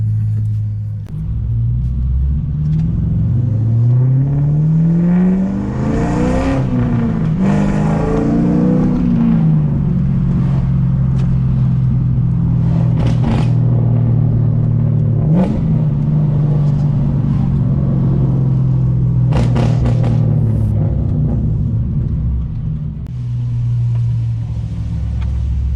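An HSV R8 with an LS1 V8 and an Xforce 3-inch exhaust drives along, its deep, loud exhaust rumble steady throughout, with rising revs and gear changes swelling the tone early on.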